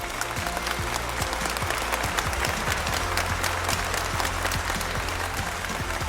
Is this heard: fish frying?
no